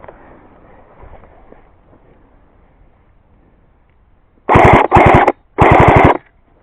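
Airsoft guns fire in three rapid bursts during an outdoor airsoft game, sharp near bursts of snapping shots after several seconds of quiet background.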